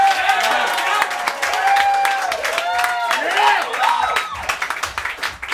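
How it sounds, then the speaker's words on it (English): A comedy roast crowd claps and whoops in a vote for the challenger in a title match, steady scattered clapping and cheering with shouted voices rising and falling over several seconds. "If you think the challenger, JP won, clap your hands."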